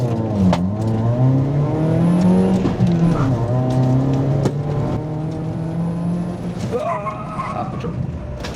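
A Chevrolet Spark small car's engine (65 horsepower, with high-performance brakes fitted) revs steadily higher as it speeds up to about 70 km/h, then the pitch drops abruptly as it brakes hard near the end.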